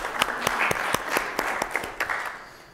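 A lecture audience applauds woodwind players after a demonstration, a dense patter of many hands clapping at moderate distance, steady throughout and fading slightly at the end.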